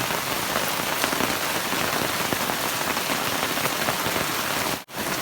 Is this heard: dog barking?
no